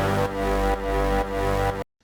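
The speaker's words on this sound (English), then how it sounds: "I layered it with a serum patch with the sawtooth. Synth sound, together they sound like this." A buzzy sawtooth chord from a Serum synth patch sustains over three punchy kick hits, evenly spaced, then cuts off abruptly into silence, in a tech-house track.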